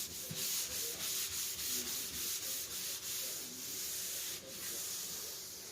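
A cloth is pressed and rubbed back and forth over a wooden butcher block countertop while working oil into the surface, giving a steady close scrubbing swish in repeated strokes with no talking.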